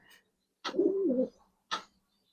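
A Giribaz high flyer pigeon gives a single soft, low cooing call, close and fairly quiet, framed by short breathy rustles before and after.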